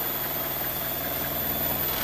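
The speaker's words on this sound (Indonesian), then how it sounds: "Nah, mobilnya udah nyala dan ini halus banget mobilnya." Idling engine of a 1994 Daihatsu Zebra minibus, a steady close rumble with even, rapid mechanical pulsing and a faint whir on top, no voices.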